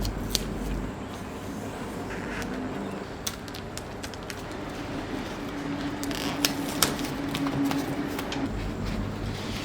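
Close crinkly rustling and sticky crackles of tape being pressed onto the zipper side of a plant package holding a Tradescantia nanouk, with scattered sharp ticks and no voices.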